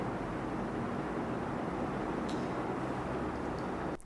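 An electric fan runs close to a small microphone, producing a constant loud broadband whoosh of air that stays steady and alone throughout, with no talk.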